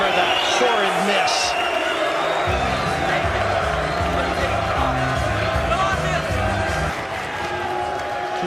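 A crowd murmurs and stirs through the Mosconi Cup 2018 pool match between Corey Deuel and Niels Feijen, a steady mid-distance hubbub with a low rhythmic drone underneath, while a commentator talks over it.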